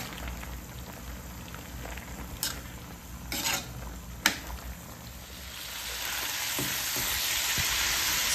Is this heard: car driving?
no